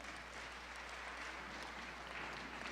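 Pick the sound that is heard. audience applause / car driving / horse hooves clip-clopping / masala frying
audience applause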